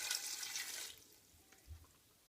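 Water poured from a jug into a pan of blackcurrants, a close, splashy gush that thins out after a second into quieter trickles and a soft final slosh.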